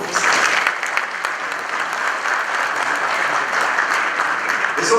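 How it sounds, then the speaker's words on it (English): A conference audience at the opening ceremony of a three-day mining summit applauds steadily, a dense wash of clapping holding at an even level from start to finish. "Give yourselves a round of applause"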